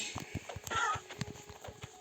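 A horse in the video game Minecraft makes a quick run of hoof clip-clops with a brief snort or whinny-like burst partway through, close and moderately loud.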